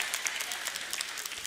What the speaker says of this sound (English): All the wives clap